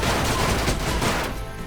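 Gunfire from the sci-fi strategy game Age of Wonders: Planetfall comes as a dense, loud burst of rapid shots lasting under two seconds, with no talking.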